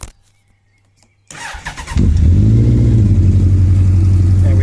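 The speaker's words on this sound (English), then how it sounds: "We'll start it up and then you can have a little listen to these exhausts" A 2001 Suzuki GSX1400 motorcycle is cranked by its starter, then catches and settles into a loud, deep, rumbling idle through its exhausts, heard up close with no talking.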